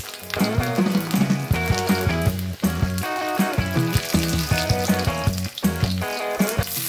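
Seven or eight garlic cloves fry in a little oil for a spicy Konkani-style dal masala. A steady, dense sizzle runs through the whole stretch, mixed with continuous tonal background music.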